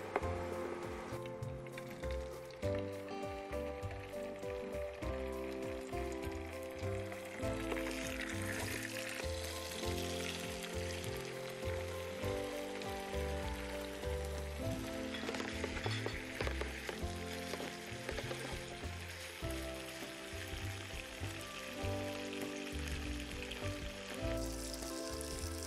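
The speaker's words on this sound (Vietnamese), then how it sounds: "lúc này chúng ta sẽ cho cái phần thịt ba chỉ vào" Pork belly frying in hot oil gives a steady, continuous sizzle that sits beneath prominent background music throughout.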